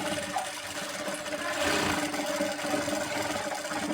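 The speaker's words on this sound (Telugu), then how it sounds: "ఇప్పుడు మళ్ళీ రెండో వైపు కూడా అలాగే స్టిచ్ వేసుకుందాము" A sewing machine runs steadily while stitching the back part of an embroidered blouse, a close, continuous mechanical whir with fine rapid ticking, holding an even loudness throughout.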